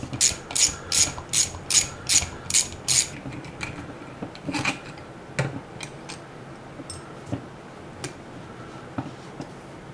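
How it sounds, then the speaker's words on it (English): A ratchet unscrews a part out of the starter housing from a 1994 Saab 9000 during starter disassembly. A quick run of about eight loud, even clicks is followed by scattered, fainter metallic ticks and rubs. "it's unscrewing out of the housing here"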